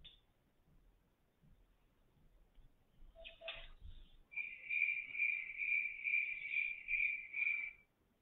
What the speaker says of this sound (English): I think everyone knows what a cricket sound is